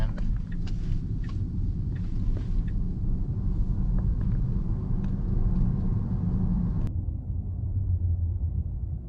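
Steady low cabin rumble of road and tyre noise as a 2021 Tesla Model S Plaid takes a corner, even and continuous, with no voices.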